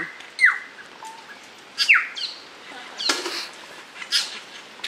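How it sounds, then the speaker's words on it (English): Outdoor bird calls at Zealandia, a saddleback's sharp descending whistles and chattering notes coming in several bursts at moderate distance, with quiet gaps between them. "a noise in the background which sounds like a saddleback to me"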